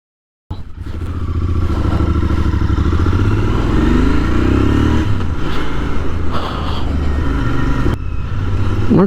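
A Royal Enfield Interceptor 650 motorcycle starts up on a test ride after its second service, its twin-cylinder engine thrumming loud and close, then revving up with a rising pitch before settling back to a steady, throbbing run.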